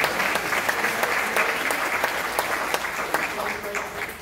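A church congregation at Marvin UMC applauds a member named parent of the year, a dense wash of many hands clapping continuously at moderate distance, with faint voices murmuring underneath.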